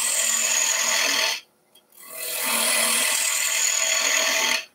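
A hand gouge shears through hard boxwood in two long rasping strokes. The loud, even scraping is split by a short pause, and the second cut trails off at the end.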